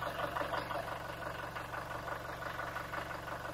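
A diesel engine of a 2021 Toyota Innova Reborn Venturer idles steadily nearby with a low, even rumble and faint rhythmic knocking throughout.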